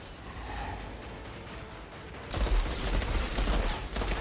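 Burst rifle gunfire in the shooter game Outriders, a rapid crackling volley that grows suddenly louder midway and keeps firing in dense bursts over a rumbling background, no talk.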